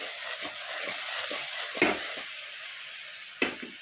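Mixed vegetable pieces sizzle steadily in hot oil for a tamarind pulusu stew, with two louder clatters of a spoon stirring the pan.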